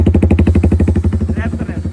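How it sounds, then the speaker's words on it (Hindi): A Jawa 42 Bobber motorcycle with an upswept exhaust and the dB killer removed idles close by with a loud, deep, rapid pulsing thump, steady and unmuffled, with a brief voice faintly underneath. "ये है बाइक की idol sound without dB killer."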